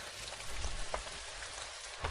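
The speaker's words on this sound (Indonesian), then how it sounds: "Kok hujannya deras banget sih?" Heavy rain pouring down steadily, a dense hiss of drops striking surfaces, with a few soft thumps.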